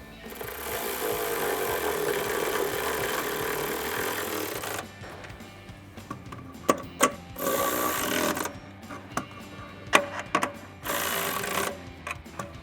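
Power tool whirring steadily for several seconds, then in short bursts, while bracket bolts for power running boards on a 2019 or newer Chevrolet Silverado 1500 are tightened with a 13 mm socket.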